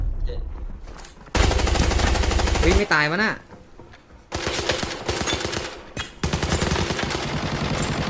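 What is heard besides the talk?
RPK machine gun firing in video game Arena Breakout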